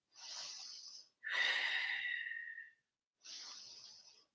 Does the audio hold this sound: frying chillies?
no